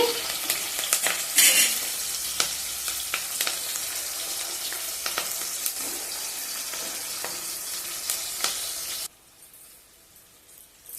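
Eggplant pieces fry and sizzle in hot oil with onion and tomato in a pan, a steady close crackling hiss with occasional stirring clatter that drops away abruptly near the end.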